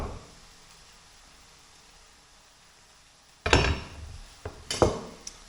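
Knife strikes on a cutting board while garlic is sliced: a few sharp, separate chops arriving after several seconds of near silence, close and moderately loud, with no voices.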